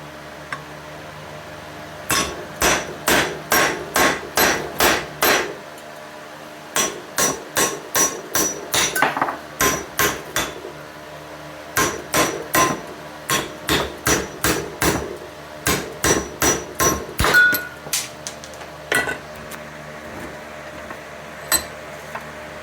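Old wheel studs are hammered out of a new Timken rear hub for a 1998 Dodge Neon, sharp metallic blows landing in quick bursts of several strikes, each pause followed by another volley, close and loud.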